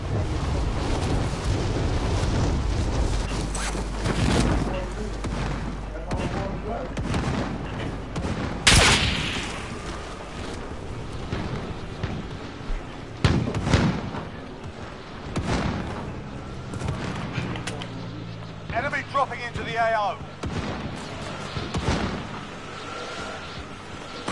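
Call of Duty Warzone target practice brings repeated gunshots, loud single reports and bursts of fire with echoing booms, scattered irregularly across the stretch and close by.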